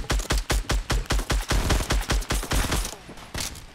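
Rapid automatic gunfire in a Fortnite squad match, a fast steady burst of loud close shots running for several seconds before trailing off.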